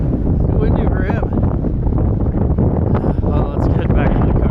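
Strong wind buffets the microphone on a cold beach, a loud continuous roar with gusty rumbling that runs throughout, with a voice talking over it.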